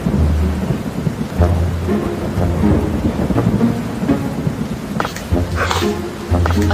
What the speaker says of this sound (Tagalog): Ang sarap talaga maligo sa ulan, no?